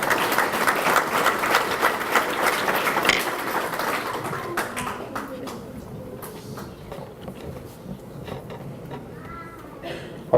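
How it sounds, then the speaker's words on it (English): Dense applause from a banquet audience honoring a scholar at an annual memorial awards dinner, strong at first and then fading into sparse, scattered claps over the final seconds. "Give Kendall a round of applause, please"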